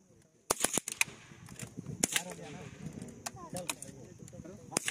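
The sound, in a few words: gunfire during rifle firing training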